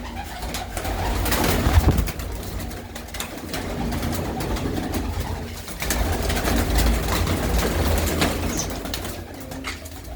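Female flying pigeons cooing and calling around a rooftop loft in Manuke Gill, birds close and continuous over a steady background hum, with a brief louder flutter near the start.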